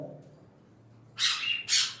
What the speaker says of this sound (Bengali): লুটিনো পাখি এটা আপনার পার পেয়ার